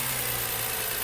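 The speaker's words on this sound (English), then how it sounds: "you want to go ahead and rev your engine" A car engine runs steady and fairly close during a charging system check, a short even hum at raised revs with no talking.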